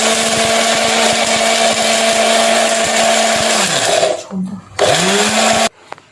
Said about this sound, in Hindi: ये मैं इसको ग्राइंडर करने लगी हूँ।